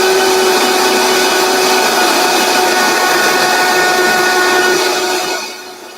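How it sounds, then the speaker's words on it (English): A Vitamix blender runs loud and steady on cashews, a dense whirring whine that holds continuously and then spins down near the end, with no voices. "So with the Vitamix, it's loud, but turning it on about 90 seconds gets it to where"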